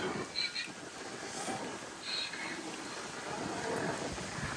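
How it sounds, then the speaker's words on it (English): Strong wind gusts buffeting the microphone outdoors at a Halloween haunted setup, a low continuous rumbling roar that swells and eases, with faint higher whistles. "Oh my God, this wind"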